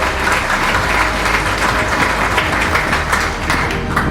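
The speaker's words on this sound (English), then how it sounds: "Give them a full round of applause." A graduation ceremony audience at an international college breaks into sustained, loud applause, a dense steady wash of many hands clapping throughout, with no voices standing out.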